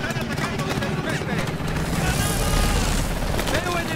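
Helicopters in Call of Duty: Advanced Warfare roar with a loud, steady rotor thrum through combat noise while voices shout over it.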